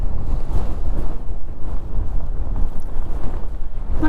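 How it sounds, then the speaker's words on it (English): Steady wind buffets a hilltop headland on a walk across several hills, a continuous loud low roar and rumble of gusts with no talk. "a bit breezy on top"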